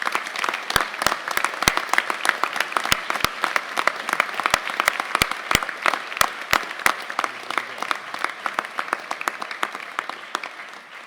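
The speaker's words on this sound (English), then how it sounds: "let's give the Chancellor another round of applause" At a university Board of Regents meeting, the room gives the Chancellor a sustained round of applause, moderately loud and even, with sharp individual claps standing out from the steady patter for about eleven seconds.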